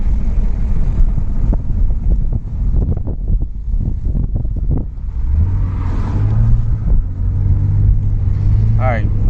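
An Acura TL Type S with its J37 V6 engine pulls hard while driving, giving a loud, throaty rumble mixed with heavy wind buffeting from outside, followed by a steadier drone as it settles into cruising.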